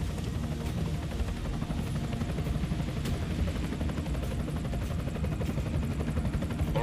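An enemy helicopter in the video game Deus Ex: Mankind Divided drones steadily at moderate distance, a continuous rotor and engine wash held under a faint radio voice.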